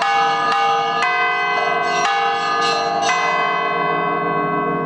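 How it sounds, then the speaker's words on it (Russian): Church bells ring out in a lively, dance-like tune, several bells struck in quick succession with long overlapping resonance, loud and sustained, with no voices. "играли звонари здесь на наших колоколах, такой танцевальный мотив"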